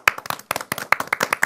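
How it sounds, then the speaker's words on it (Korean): Hands clapping in a short burst of applause for the crew after a live-streamed B.A.P showcase, several claps close together in an irregular, lively rhythm with no talking. "모두 감사드립니다. 박수 한번."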